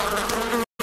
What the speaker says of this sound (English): it sounds like there's bees